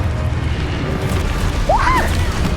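A Confringo spell blast from the Hogwarts Legacy video game: a steady low booming rumble, then a bright rising-and-falling magical streak near the end, loud and with no talking over it.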